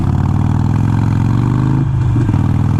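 A Harley-Davidson Iron 883 fitted with a Vance & Hines Fuelpak FP3 runs close and loud in first gear, its deep pulsing engine note holding steady before a brief dip and shift in pitch near the end.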